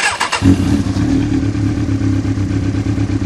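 A motorcycle engine with the clutch lever pulled in and a faulty clutch switch cranks briefly, then catches and settles into a loud, steady idle with a rhythmic low throb, heard up close.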